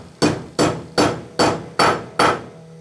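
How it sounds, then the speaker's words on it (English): Hammer blows pounding a press-fit part onto a drill press vise in a metal shop: six sharp, loud strikes at a steady rhythm roughly every half second, each ringing briefly before the next, with no talking. "I'm going to pound it on there. It'll be a press fit without Loctite."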